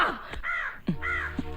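A crow caws twice in a Tamil comedy film scene, two harsh, clear calls separated by a short pause with no speech, set against light background sound.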